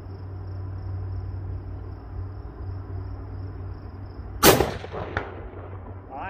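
A single loud, sharp Mosin rifle shot fired outdoors cracks out partway through, followed by a brief echoing tail and a fainter second report, over a steady background hum of insects.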